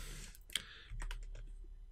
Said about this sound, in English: Use your arrow keys on your keyboard